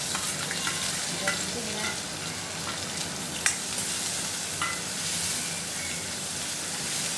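Cumin, crushed garlic, green chili and ginger sizzle in hot oil in a pan, a soft continuous hiss broken by light scrapes and taps of stirring, with a few brief spoken words.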